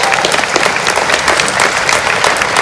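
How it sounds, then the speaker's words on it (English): Applause for volunteers at a memorial rally in Leeds: a dense, steady crowd clapping that fills the whole stretch at a loud, even level, with scattered faint voices mixed in. "so I'd like to give them a round of applause,"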